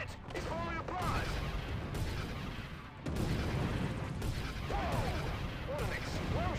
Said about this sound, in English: Whoa! What an explosion!